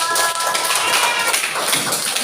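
Schoolchildren clapping their hands in a classroom, a quick burst of close, busy clapping with faint voices mixed in.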